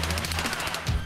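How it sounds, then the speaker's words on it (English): Rapid automatic gunfire in Escape from Tarkov, a fast burst of evenly spaced shots running loud and close for about a second with no pause. "Oh shit, he's shooting at you?"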